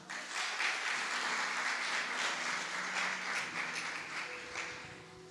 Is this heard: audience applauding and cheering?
yes